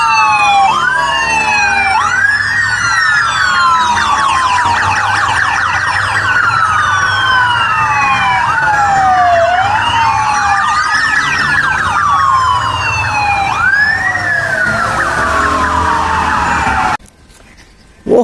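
A toy police motorcycle siren wails in loud, continuous rising and falling sweeps, alone and close, before cutting off abruptly near the end.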